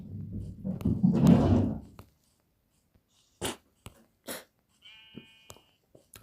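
Sheep in the Minecraft survival game bleat in short, separate calls. A denser burst comes early, and sparse game clicks and blips fill the quiet stretches after it.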